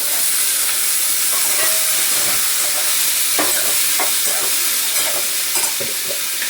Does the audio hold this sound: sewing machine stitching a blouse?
no